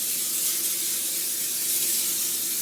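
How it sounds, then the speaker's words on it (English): Olive oil spray is misted onto a salmon fillet in one continuous, steady airy hiss lasting a few seconds, close and fairly loud, with no voices. "I'm gonna spray it with some olive oil"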